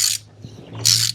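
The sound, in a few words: tightening oil filter housing on Mercedes GLE450e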